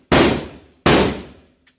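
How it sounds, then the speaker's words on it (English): Two sharp, loud bursts of SAW squad automatic weapon machine-gun fire at a gun range, each about two-thirds of a second long, separated by a brief pause, followed by a faint trailing click. "SAW stands for squad automatic weapon, right?"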